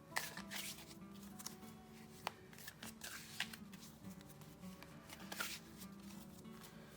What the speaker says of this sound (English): Please forgive my terrible shuffling, this being my first print, so I'm being quite ginger with them.